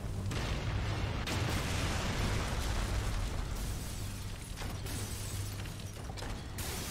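Explosions in the action video game Darksiders, a dense, sustained rumble of blasts and crackling debris with several sharper bursts, loud and continuous with no speech over it.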